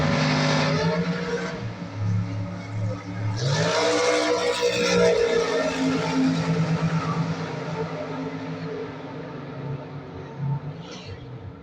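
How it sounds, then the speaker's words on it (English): A drag race with a 2019 drop-top Corvette powered by a 582-cubic-inch big block Chevy, loud engines roaring and revving hard through a launch, then a sustained powerful run fading slightly near the end. "Max Starks 2019 model drop top Corvette right side, 582 cubic inches of big block Chevy"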